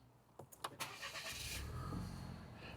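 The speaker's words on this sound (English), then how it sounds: "we can't really go any further without starting the car" A car engine starting: a few clicks and a whirring crank, then the engine catches and settles into a steady low idle, close and moderately quiet.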